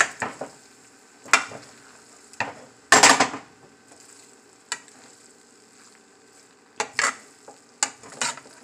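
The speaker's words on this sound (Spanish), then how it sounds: "Le vamos a agregar lo que es el huevo. Y lo vamos a revolver." Egg is stirred into frying shrimp rice in a pan: irregular bursts of scraping and rustling from the spatula, some strong and close, separated by quieter stretches of faint sizzle.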